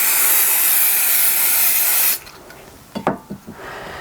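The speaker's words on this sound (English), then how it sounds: "and you want a nice fine even spray." 505 spray adhesive sprayed onto fabric pieces, a loud steady hiss from the can that stops abruptly, followed by a few soft rubbing and handling sounds.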